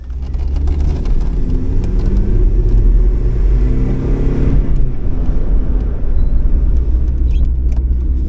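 A Volvo 940 car drives steadily, its engine giving a continuous low rumble and road noise that holds loud and close throughout, with a slight rise in engine pitch midway and no talking.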